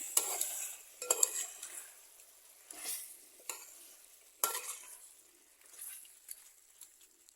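Rabbit roast is stirred and mixed in a pan with the stove off: irregular spoon scrapes and clinks against the metal, some sharp, over a soft residual sizzle.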